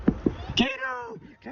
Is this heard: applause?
no